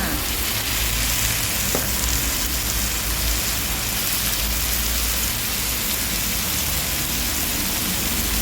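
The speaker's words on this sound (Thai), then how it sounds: "ผัดต่อไปค่ะ" Fried tofu filling seasoned with sugar, white soy sauce and ground pepper stir-fried in a pan, giving a dense, constant hiss of sizzling that resembles rain, with one faint tap and no voices.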